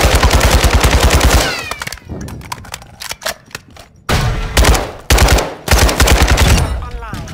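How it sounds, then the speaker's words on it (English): M4 rifle fire in a video game: long rapid automatic bursts, loud and close, separated by brief gaps with scattered single cracks between them. "Did you see how I shot it through the wall?"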